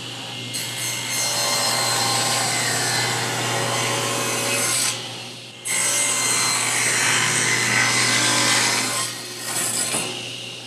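A table saw rips wood in two sustained, loud, close passes under a constant motor hum, with a short break between the cuts.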